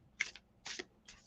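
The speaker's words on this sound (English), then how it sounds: "I have shuffled thoroughly every single time." Tarot cards are shuffled close by in three short, quiet riffling bursts spaced evenly apart, with near silence between them.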